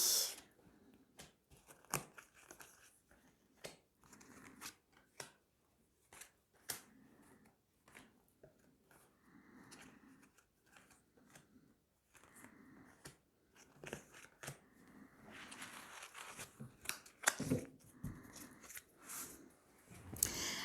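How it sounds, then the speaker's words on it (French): Tarot cards are drawn from a deck one after another, making soft papery snaps, slides and shuffling rustles at close range, with no talk. "on va tirer 9 cartes"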